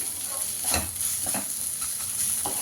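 Beetroot, carrot and chopped green chillies stir-fried in a pan hiss in an even sizzle, broken by a few soft spatula scrapes over a couple of seconds.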